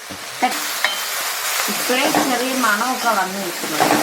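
Elephant yam flower and shallots stirred in a pan, a steady close sizzle with scraping spoon strokes, while a voice speaks over part of it.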